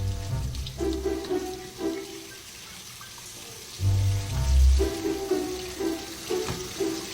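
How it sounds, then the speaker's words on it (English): Running tap water splashes over washed dishes in a sink during rinsing, coming in uneven bursts and gurgles with a quieter pause midway, nearby and fairly soft, with no one speaking. "Put them all in a pile after they've been scrubbed and then rinse them all at once."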